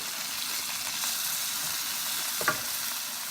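Shrimp paste sizzling steadily as it fries in a pan until brownish, a continuous close hiss with a brief stir or clink near the end, no voices.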